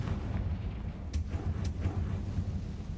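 In the video game Hogwarts Legacy, a Confringo spell explodes, a muffled low rumbling blast with a couple of sharp cracking bursts over a continuous deep background roar.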